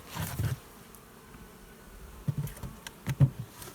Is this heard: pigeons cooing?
no